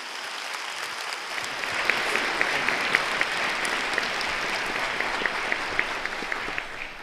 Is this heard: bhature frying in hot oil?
no